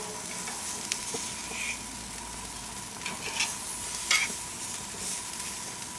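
Onion slices sizzle steadily on a hot grill beside eggplant and tomato, a soft continuous hiss with a few faint crackles and no talking.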